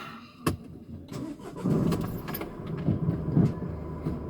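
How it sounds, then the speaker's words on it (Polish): A car engine cranks and fires up near a racetrack crossing, a sharp onset followed by a steady mid-low rumble that rises and falls as it idles and revs, loud and close with no talk. "odpali auto."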